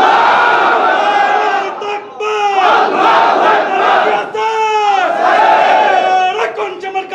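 A large crowd at a political-religious rally in a police station area of Khulna roars "Allahu Akbar" in unison in reply to a takbir call, with loud, sustained, chanting shouts repeated several times.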